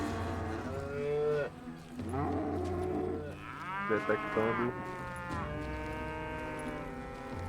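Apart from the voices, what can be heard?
cow mooing in video game Call of Juarez: Gunslinger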